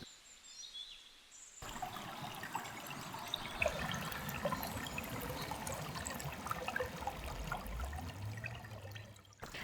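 A river flows at the foot of the green hills of Bukit Humon in Timor. After a short quiet start, a constant rushing, trickling wash of water sets in, with a low rumbling tone rising near the end.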